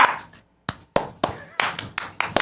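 Several people clap in a studio in separate sharp bursts, a handful of quick overlapping claps after a short quiet gap, close and fairly loud.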